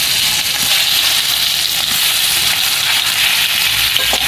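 Whole mangoes go into hot oil in a pan alongside blackened chillies, producing a loud, steady, dense sizzle of frying that runs unbroken from start to finish with no voices.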